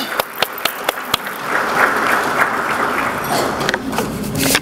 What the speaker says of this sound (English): Would you please thank these individuals for their service with a round of applause?